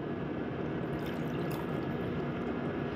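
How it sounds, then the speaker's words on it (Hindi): Water poured into onion chutney during cooking with ground dry spices: a steady, continuous wash of liquid sound with small trickles and drips, close and fairly quiet, with no talk over it. "और थोड़ा सा पानी इस डालेंगे"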